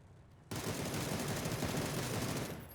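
Sustained burst of automatic gunfire in PUBG erupts after a brief quiet opening, dense and continuous for about two seconds before tapering slightly at the end, with no voices.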